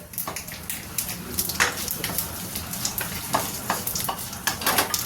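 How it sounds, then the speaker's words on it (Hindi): Asafoetida crackles and sizzles in hot oil, a busy close-up frying hiss with rapid popping bursts throughout. "अब इसी जगह पे हम थोड़ा सा हींग डाल देते हैं"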